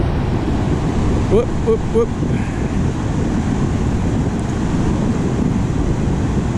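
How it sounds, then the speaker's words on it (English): Ocean surf washes up a beach on a hot-day coastal trip, a continuous rushing roar mixed with wind buffeting the microphone, while a voice briefly calls out early on. "Gotta watch out for those waves."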